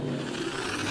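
A car engine revving as a triggered sound effect, a brief steady mid-pitched engine drone heard alone and close.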